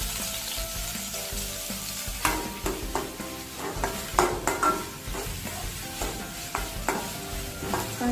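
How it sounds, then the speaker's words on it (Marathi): Finely chopped onion frying in oil with bay leaves, a steady soft sizzle broken by spoon stirring and scraping against the pan, with no voices. "कांदा पूर्ण लाल होईपर्यंत परतायचा"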